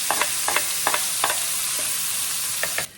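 Tomatoes go into a hot pan with onions for a tomato and cream pasta sauce, giving a steady, loud sizzle with a few clicking stirs before it cuts off abruptly.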